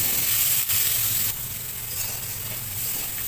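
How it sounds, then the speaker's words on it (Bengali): Potato and pumpkin pieces frying and being stirred in a pan, a loud, steady sizzle with occasional scraping, without any talk. "আর একটু নাড়াচাড়া করে মিশিয়ে নেব। 2 থেকে 3 মিনিট এভাবে একটু ভেজে নেব।"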